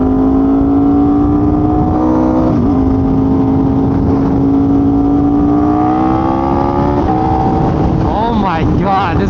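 A superbike engine held at about half throttle, a loud, close, steady droning roar whose pitch wavers and briefly dips and climbs near the end.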